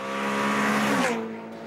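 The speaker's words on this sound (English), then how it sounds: "The engine is so urgent." A Ferrari California's engine pulls hard under acceleration, a loud rising tone that peaks, then drops away as the revs fall, with no voices.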